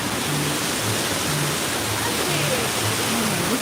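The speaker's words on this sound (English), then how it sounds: "There's more of these waterfalls." Waterfalls at Disneyland Paris rush in a steady, dense wash of falling water, continuous and fairly close, with no talk over it.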